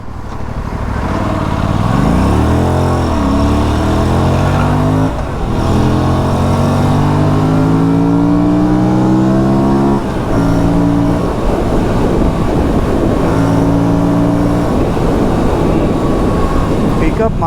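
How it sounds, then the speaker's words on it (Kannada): An Aprilia sports bike engine, ridden without a quick shifter, pulls loudly and steadily, its pitch climbing and then dropping sharply at a couple of gear changes before rising again. "ಗೇರ್ ಹಾಕ್ಬೇಕಾದ್ರೆ ಒಂಚೂರು ಲೈಟಾಗಿ ನಮಗೆ ಸೌಂಡ್ ಬರ್ತಾ ಇದೆ, ಪಟ್ ಪಟ್ ಅಂತ"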